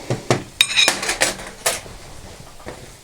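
Ground black pepper and salt worked into a Spanish-style albóndigas meatball mixture, heard as a short run of close clinks and scrapes of utensil against bowl, several sharp taps in the first second and a half, then quieter, with no talking.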